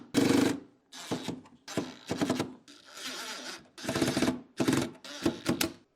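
Repeated bursts of rapid ratcheting clicks come from screws being tightened to 18 inch-pounds of torque on the terminals of an EG4 6000XP portable power station, close and fairly loud, separated by short pauses, with no talk.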